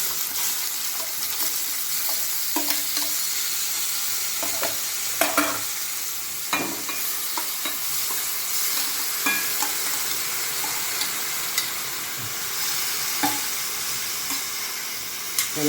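Grated carrots fry in ghee in a kadai with a steady sizzle, broken by repeated scraping clicks of stirring.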